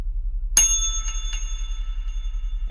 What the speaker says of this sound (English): That's right, a real bell.